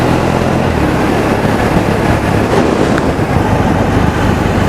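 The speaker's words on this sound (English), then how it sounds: "I'll just get you the sound of the engine." A Triumph Bonneville motorcycle engine drones steadily while riding on a road, mixed with loud, constant wind rush, close and without talk.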